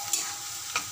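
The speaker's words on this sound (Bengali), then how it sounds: "এবার দিয়ে দেবো বেটে রাখা মশলাটা, আর মিক্সারে বাটি ধোয়া জলটা দিয়ে মশলাটা কষে নেব" Ground spice paste fries in a pan for a soybean dalna, a steady close sizzle with two quick stirring scrapes.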